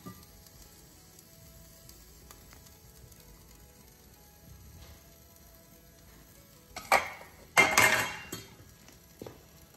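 Sautéed broccoli crowns are tipped from a pan onto a tray, giving a couple of short metallic clatters and scrapes near the end after a long quiet stretch, close by with no talk.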